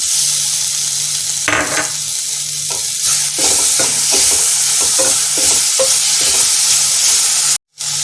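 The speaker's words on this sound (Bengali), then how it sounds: "এবার আমি এর মধ্যে টমেটো কুচিটা দিয়ে দিচ্ছি।" Chopped tomato and green chilli sizzling hard in a hot pan for rajma curry, loud and close, with repeated scraping stirs cutting through a constant fry and a brief drop to silence near the end.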